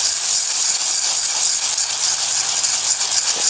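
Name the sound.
cooking oil added to hot pan, sizzling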